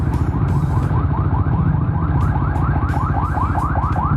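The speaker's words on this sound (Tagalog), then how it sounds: "Gaya niya, may ambulansya." An ambulance siren wails in a rapid repeating yelp pattern over steady loud road and motorcycle engine noise in Metro Manila traffic, fairly close and continuous throughout.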